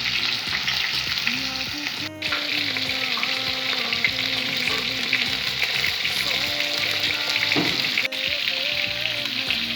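Rump steak fries in butter in a pan with a constant dense, close sizzle and a few clinks, while faint speech sits under the frying.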